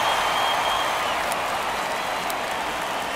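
Stadium crowd in MLB The Show 22 at a Toronto Blue Jays versus Baltimore Orioles game, a steady wash of applause and roar from a large audience, even and moderately loud throughout.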